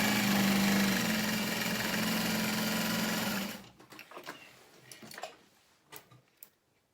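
A sewing machine stitches a vinyl Emily tote bag at a 3.5 stitch length, a loud steady close hum for about three and a half seconds before stopping abruptly, leaving faint clicks and handling noises.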